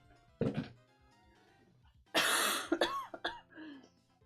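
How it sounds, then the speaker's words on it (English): A person coughs up close, one short cough followed after a pause by a harsher run of several coughs and throat-clearing sounds. "My cough keeps getting worse the more I talk."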